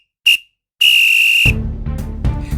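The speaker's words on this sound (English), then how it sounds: "there goes the final whistle" A referee's final whistle at a Warminster Town football match, a short sharp blast followed by a longer shrill one, then a low rumbling noise takes over.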